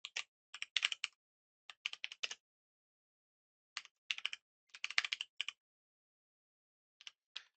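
Keys click in short, quick clusters on a computer keyboard, bursts of a few rapid taps separated by brief silences, close and fairly quiet with no other sound.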